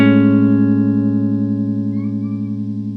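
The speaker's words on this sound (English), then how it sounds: "now that's the major 7th form of the chord." A guitar major 7th shell voicing rings out as one sustained chord, its notes decaying slowly and steadily with no one talking.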